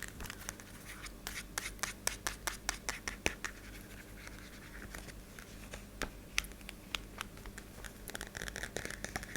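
Tapping and scratching on a small book, close and quiet, with irregular crisp fingernail taps and rubbing scratches in a loose rhythm, no talking.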